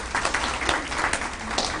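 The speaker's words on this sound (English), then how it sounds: "can we have a round of applause for that group that put this together today?" An audience at a lung cancer support event in New York City applauds the organizing group, a sustained burst of many hands clapping with irregular peaks.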